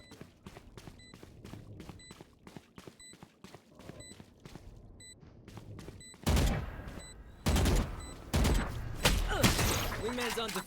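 Gunfire in the shooter game Valorant: rapid, evenly spaced sharp shots at first, then louder heavy bursts toward the end, with quieter footsteps and game sounds between them.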